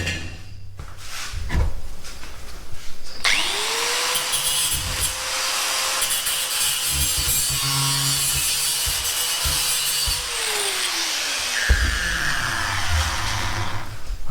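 Angle grinder with a cutting wheel grinding steel while building a steel rabbit cage: loud, harsh continuous grinding with the motor spinning up, holding steady for several seconds, then winding down, close by.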